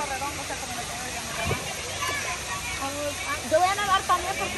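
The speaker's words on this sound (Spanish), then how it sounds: "Vamos a ir ahí a esa cascada, a ese chorredón" A waterfall roars as a steady broadband rush, with indistinct voices talking over it.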